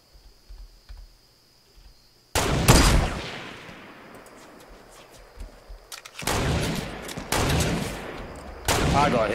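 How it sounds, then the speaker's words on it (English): Gunfire in a Fortnite battle: a sharp sniper shot bursts in after near silence, followed by a fading tail and then several more loud, spaced gunshot blasts toward the end. "I got hit then by a sniper."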